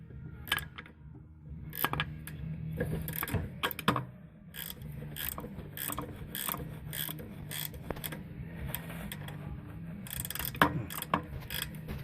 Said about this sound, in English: so now we're tightening our 14 mil on the back.